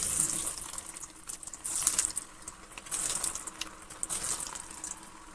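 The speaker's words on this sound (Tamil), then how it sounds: "நல்லா எண்ணெய் சூடு ஏறின பின்னாடி அடுப்பை மீடியம் ஃப்ளேம் வச்சுட்டு நம்ம இந்த உருட்டி வச்சுருக்க இந்த உருண்டைகளை சேர்த்திக்கலாம்." Mutton kola balls dropped into hot oil over a medium flame, giving a steady close sizzle and bubbling hiss that swells in bursts as more balls go in. No one speaks.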